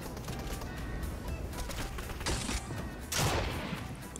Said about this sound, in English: you're shooting me with an SMG